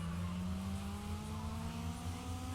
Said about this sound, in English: We're making a much nicer little warbly sound from the exhaust.